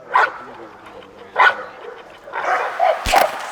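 A pitbull in bite training barks in sharp, separate bursts at close range, followed by a cluster of quicker yips and barks, with a voice speaking underneath.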